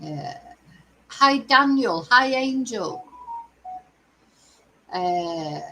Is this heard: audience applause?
no